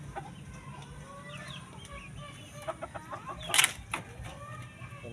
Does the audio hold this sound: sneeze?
no